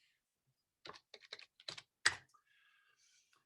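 Close, crisp clicks of a computer keyboard as a username and password are entered, an uneven burst of a dozen or so keystrokes over about a second and a half, then quiet.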